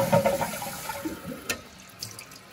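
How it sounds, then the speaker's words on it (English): A toilet flushes with a loud rush of water draining from the bowl, easing into a steadier, softer hiss of the tank refilling after a slow-fill fix. "give this bad boy a flush"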